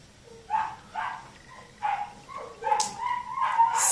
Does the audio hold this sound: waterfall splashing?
no